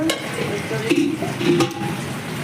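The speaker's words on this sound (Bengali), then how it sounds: "দুই কড়াইয়ে একদম মাছের ঝোল টকবক টকবক করছে ফুলকপি দিয়ে আর এখানে মাছ ভাজা" Fish fries in one pan while a fish curry with cauliflower bubbles in another, making a continuous close sizzle and crackle with occasional stirring and scraping at a home meal the day after a puja festival.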